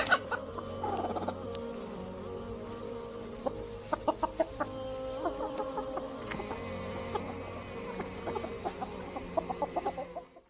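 A chicken clucks in short, rhythmic bursts, close and clear, repeating in clusters over a steady low background hum with no talking.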